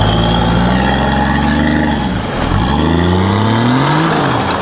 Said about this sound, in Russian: Конечно, слушать работу такого двигателя приятно.